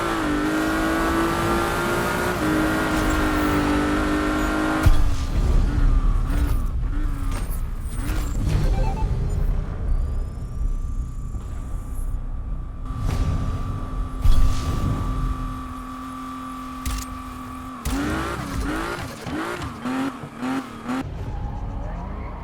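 Race cars in a Need for Speed video game race, engines revving and shifting through gears with tire squeals and skids, loud and continuous, a higher engine whine holding steady in the middle stretch.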